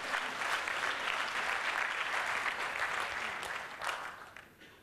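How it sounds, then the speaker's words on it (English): A conference crowd at an ASEAN tech event gives the iFlix team a sustained round of applause, loud and full at first, then thinning and fading away toward the end. "So a big round of applause to the iFlix team"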